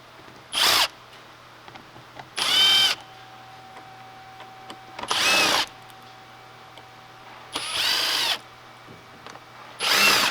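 A power drill backs screws out of the air filter housing on a 2017 Volkswagen Tiguan, with five separate whirring bursts of one to two seconds each, close and loud, and quiet pauses between them.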